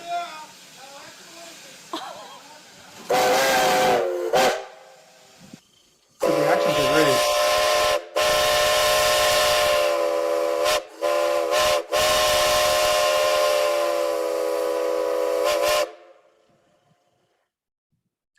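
A loud steam locomotive whistle blows in several long, sustained blasts with brief breaks between them, ringing with strong harmonics; people talk briefly before it starts.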